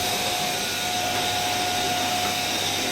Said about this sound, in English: Will you still prefer to use the broom, or will you just use the vacuum cleaner?